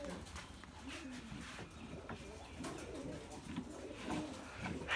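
A Rajshahi Giribaz pigeon coos softly in repeated low, rolling phrases, heard faintly at close range against a quiet background.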